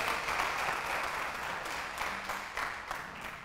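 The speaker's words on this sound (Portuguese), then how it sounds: "Você pode dar um aplauso ao Senhor e ficar de pé?" A church congregation applauds steadily, with dense, continuous clapping filling the room at moderate volume.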